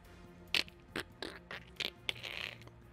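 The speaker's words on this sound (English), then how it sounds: "of a crusty, stony outer layer falling off" Gritty scraping and cracking, several sharp crunchy bursts of crumbling material at irregular intervals, fairly faint and close.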